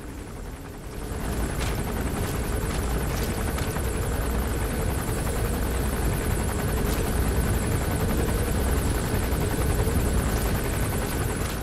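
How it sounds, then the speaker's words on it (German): A helicopter in Metal Gear Solid V: The Phantom Pain roars close and loud, its rotor and engine a constant dense drone that swells in after a brief quieter start and holds steady, with no speech. "Helikopter kann ich ja irgendwie gar nicht mitnehmen."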